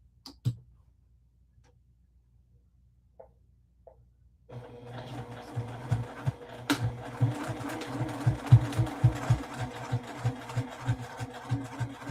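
A sewing machine topstitching a Lori Holt Zippy Bag project panel: after a few faint clicks, the machine starts and runs slowly and steadily up close, a rhythmic mechanical whirring and ticking of the needle that keeps going to the end.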